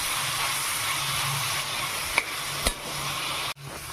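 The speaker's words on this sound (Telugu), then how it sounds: "నీట్గా ఫ్రై అవ్వాలండి ఉల్లిపాయలు" Onions fry in a pan for chicken gongura curry with a faint, steady sizzling hiss and two sharp utensil knocks partway through.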